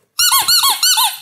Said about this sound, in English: I like the little squeaky growler.